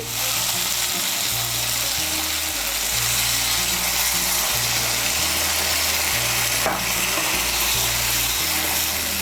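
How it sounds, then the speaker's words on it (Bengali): Hot water hits a pan of frying okra masala, giving a loud, steady sizzle and bubbling hiss that continues throughout without any talking. "আমি মশলার বাটিগুলো ধুয়ে এর মধ্যে হাফ কাপ গরম জল দিচ্ছি"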